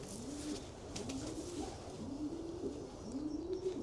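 A 2015 racing pigeon coos softly in a repeated rolling rhythm, four low cooing phrases in a row, faint and close over a steady background hiss.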